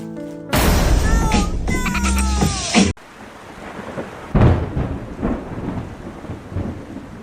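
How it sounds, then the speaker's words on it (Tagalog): Rain falls steadily with thunder rumbling, the opening seconds loud and dense with a deep roll before settling into a softer wash of rainfall with scattered thuds. "It's raining!"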